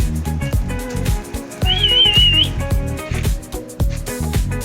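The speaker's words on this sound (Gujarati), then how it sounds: "આવશે હજી બધાને સીટી સંભળાય ને આવે" Person whistling to call street dogs for feeding, a single wavering, melodic whistle of about a second, close and clear over loud background music.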